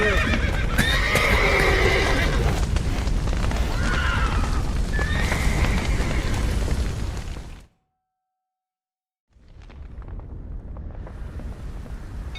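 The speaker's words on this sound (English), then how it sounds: "The horses!" Horses neigh and whinny in the Genshin Impact video game, loud and continuous over hoof clops and game sounds, then a sudden drop to silence before the game noise returns.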